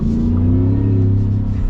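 A Shelby Super Snake Centennial pickup truck, an 800-horsepower lowered Ford truck, rumbles with a deep, loud, steady engine drone as it revs, heard up close with no talking.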